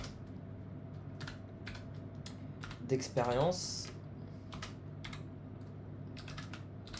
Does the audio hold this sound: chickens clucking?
no